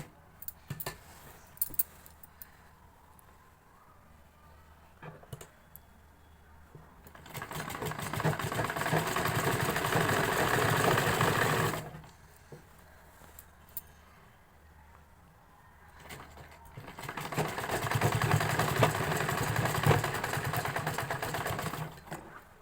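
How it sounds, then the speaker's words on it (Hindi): Sewing machine stitching a belt on a salwar, two sustained whirring runs of several seconds each, separated by quiet stretches with small handling clicks, close and fairly loud. "इस तरीके से रख के हम इसमें सिलाई लगा देंगे"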